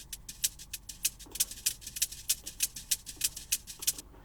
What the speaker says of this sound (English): Then after that, I'll drag in another shaker which sounds like this